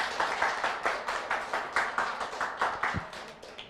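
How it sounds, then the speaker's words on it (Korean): Applause from an audience at a nurses' association general assembly and policy forum, welcoming Anseong mayor Kim Bora: a steady stretch of many hands clapping at moderate level, continuous for several seconds with no talk. "김보라 시장님을 큰 박수로 맞아주시기 바랍니다"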